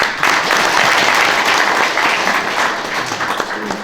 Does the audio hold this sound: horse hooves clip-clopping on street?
no